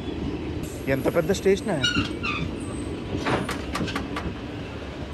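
The Satavahana Superfast Express rolls to a halt at platform 1 of Dornakal Junction with low rumbling, clanks and brief high squeals, while people talk over it.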